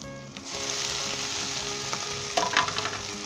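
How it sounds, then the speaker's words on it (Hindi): Cooked rice goes into a pan of frying egg, bringing a loud, continuous sizzle with a few scraping stirs near the end and no talk. "अब हम इसके अंदर जो मैंने चावल फैला कर रखे हुए थे ये डाल देंगे"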